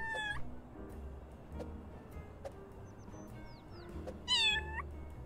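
A cat meows twice in the video game Little Kitty, Big City, bright and close, with small chirpy game sounds in between over a quiet background.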